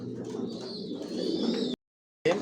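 Racer pigeons of a Johnson line coo in a home loft, a low rumbling murmur with a thin whistling tone above it. The sound cuts out briefly, then resumes.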